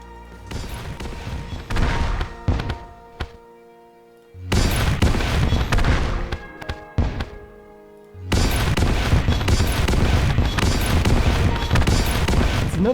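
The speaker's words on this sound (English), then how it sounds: "Supernova creates a massive explosion on impact, explodes into spikes and homing energy." Supernova weapon strikes in Terraria Calamity burst in heavy booming explosions with crackling spiky debris, three loud sustained bursts separated by short silent gaps, the last running on without a break.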